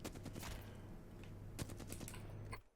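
Rapid gunfire bursts from a weapon in the Apex Legends firing range, a quiet run of sharp, closely spaced shots that ends abruptly.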